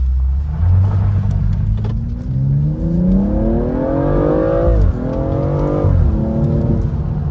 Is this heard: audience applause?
no